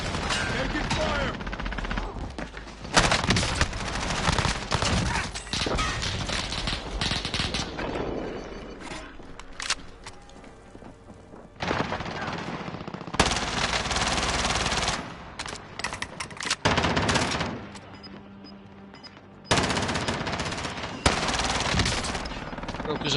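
Bursts of automatic and single gunfire from a first-person shooter video game come in dense volleys and pause between them. Players talk over the action during the lulls.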